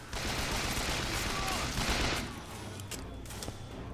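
Rapid gunfire in the video game Bioshock Infinite, a dense, loud volley of overlapping shots for about two seconds, then easing into quieter combat noise with a few sharp later cracks.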